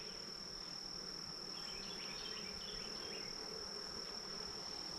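Honey bees hum in a continuous, even drone over brood comb in an upper brood box of a hive, close and steady with no voices.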